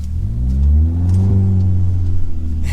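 A car engine revs loudly and close as the gas pedal is pressed during a three-point turn, pitch climbing then settling into a sustained hum, with no one speaking.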